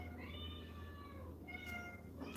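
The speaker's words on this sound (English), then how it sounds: "you can hear their little mews and meows in the background" Faint, high meows from kittens, a couple of drawn-out cries in quick succession over a quiet, humming background.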